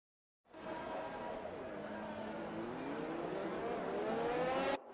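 Formula One race cars in a racing video game set at the Austrian Grand Prix, engines droning loud and close as the formation lap begins, pitch slowly rising over several seconds before cutting off abruptly.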